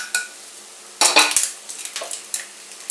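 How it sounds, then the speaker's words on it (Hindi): Poppy seeds, fenugreek, mustard seeds and other spices for Nagpuri kala masala are tipped into a metal pan, giving a few sharp clattering scrapes and rattles with light ticks between them, close and fairly quiet. "पॉपी सीड्स डाला है, मेथी, राई, और ये सारे मसाले हम इसमें डाल देते हैं।"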